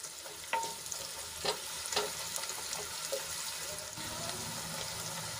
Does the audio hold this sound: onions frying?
yes